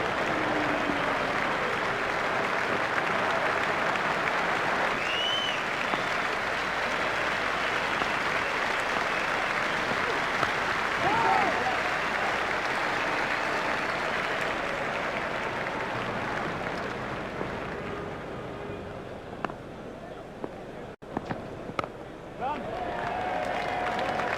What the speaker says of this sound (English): raises his bat to the crowd to acknowledge the applause